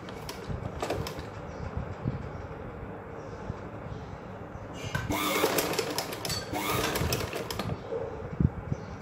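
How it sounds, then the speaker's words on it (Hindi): A sewing machine runs steadily while stitching the front neckline of a garment, a continuous close mechanical whir that grows louder in the middle, with no talking over it. "ऐसे हम सिलाई करेंगे।"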